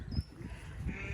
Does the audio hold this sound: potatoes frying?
no